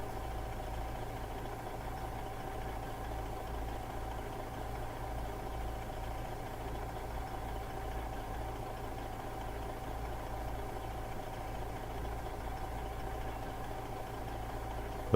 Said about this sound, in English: With our historic engine noises.